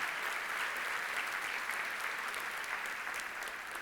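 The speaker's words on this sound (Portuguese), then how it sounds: "Quer aplaudir? Pode aplaudir." A church congregation applauds, dense sustained clapping from many hands that fills the room evenly and continues steadily without pause.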